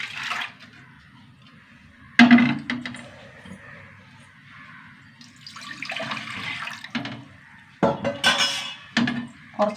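A pot is handled while cooked dal is transferred into a clay cooking pot, with sharp clanks and scrapes, splashy pouring and sloshing, and quiet gaps between.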